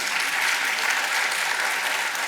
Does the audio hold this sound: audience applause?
yes